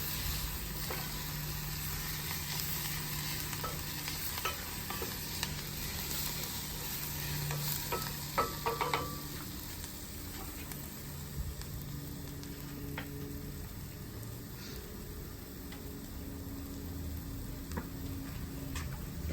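Onions frying in a pan for South African braai burgers, a faint, steady sizzle with occasional light clicks and stirring sounds, no talking.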